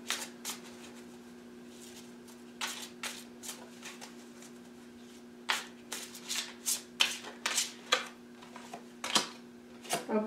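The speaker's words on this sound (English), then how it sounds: "now I'm going to pull a crystal wisdom healing oracle card" Crystal wisdom healing oracle cards are shuffled close by in a series of quick, papery riffling bursts, pausing briefly and then resuming more busily, over a faint steady hum with no talking.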